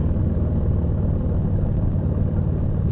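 Steady low road rumble of a car cruising along a winding road on a grocery run, a continuous engine and tyre drone heard from inside the cabin with no talking.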